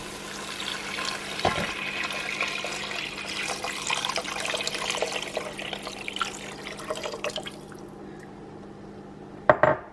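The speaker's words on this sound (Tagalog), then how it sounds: "I am ready to add in a liter of water or 4 cups of water" Water poured into a cooking pot for tinolang isda, a soft continuous splashing pour at close range lasting several seconds, fading out before a couple of sharp clinks of the pot or lid.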